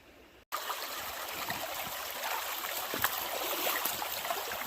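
Water running steadily through a gold prospecting sluice outdoors, a constant rushing trickle and gurgle that starts abruptly and holds at an even, moderately loud level with occasional splashy accents.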